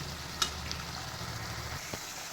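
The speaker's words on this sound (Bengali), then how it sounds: "মশলাটাকে কষিয়ে দিন ভালো করে।" Fried pointed gourd pieces are stir-fried with masala for a poppy-seed dish, giving a soft, steady sizzle with a light scrape or two of the spoon.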